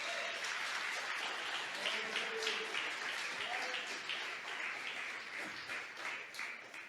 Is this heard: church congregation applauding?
yes